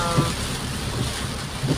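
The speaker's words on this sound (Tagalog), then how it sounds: "lakas ng tubig, lakas ng ulan, mahangin-hangin pa" Steady, dense roar of heavy rain and gusting wind against a surface, with a faint voice murmuring underneath.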